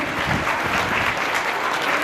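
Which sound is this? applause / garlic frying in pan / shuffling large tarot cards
applause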